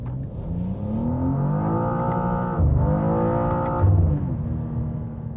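2025 BMW M2 pulls hard as turbo boost builds, the engine note climbing steadily in pitch through one gear, dipping at a shift, then rising again, loud and close with no voices.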